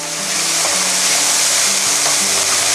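Pork and shiitake mushrooms fry in a pan as filling for mushroom miang, giving a loud, steady, close sizzle with faint stirring throughout.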